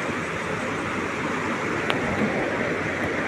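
River water rushes in a loud, continuous broadband roar during a river crossing on a trek toward a waterfall, steady for the whole moment with no clear voices.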